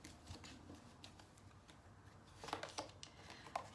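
Tarot cards being shuffled and drawn, a faint soft riffling and papery slaps that grow into a few sharper card snaps near the end, close and quiet with no talk.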